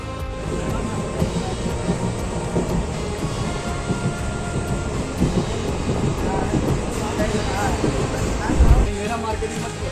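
A train rumbles at a station, low and continuous, while people talk nearby over the background clatter.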